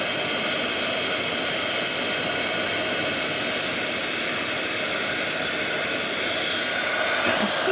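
A craft heat tool blows hot air over craft snowflakes, a steady, loud, close whooshing hiss that runs unbroken throughout with no talking.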